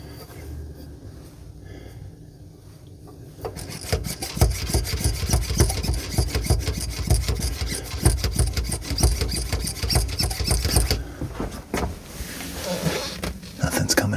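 A sink soap dispenser pump is worked repeatedly to prime it, giving a rapid series of rubbing, squeaky plastic strokes close to the microphone that run steadily for about ten seconds after a quieter start.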